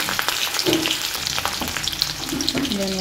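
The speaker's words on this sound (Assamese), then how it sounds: "এতিয়া মই জিলমিলখিনি বনাবৰ কাৰণে এখন কেৰাহী পাতিছোঁ, জিলমিল শাকখিনি বনাম, তাত অকণমান তেল সৰহকৈ দিম" Jilmil greens frying in plenty of oil in an iron kadai for an Assamese meal, a loud, steady sizzle and crackle with scattered popping and stirring scrapes, close up and uninterrupted.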